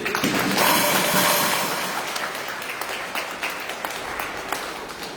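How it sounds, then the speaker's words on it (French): Church congregation applauding during a Sunday Mass, a broad, steady wash of clapping that swells early and then settles to a continuous, slightly thinner level throughout. "On peut s'applaudir."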